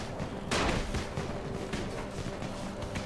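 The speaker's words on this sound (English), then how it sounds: "I don't think this firecracker thing is really working." Firecracker bursts in the video game Dying Light: a dense, noisy crackle with a sharp loud pop near the half-second mark, followed by continuing scattered pops and rattling under steady game ambience.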